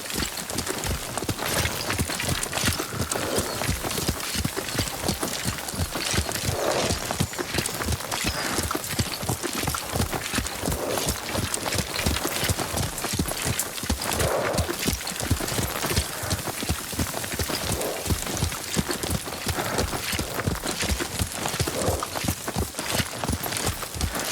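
Steady, rapid hoofbeats of a horse ridden in the video game Ghost of Tsushima, a continuous galloping clip-clop that stays close and loud throughout with no talk.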